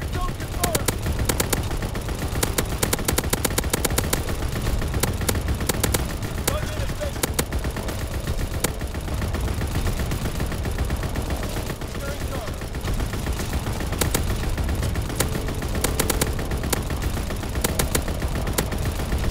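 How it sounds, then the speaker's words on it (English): Anti-aircraft gunfire in a video game: rapid bursts of shots crackle in dense volleys almost throughout, loud and close, with pauses between salvos. Other game sounds and occasional voices run underneath. "Anti-aircraft salvo commenced. Clearing the skies."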